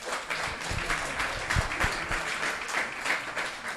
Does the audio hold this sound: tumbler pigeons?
no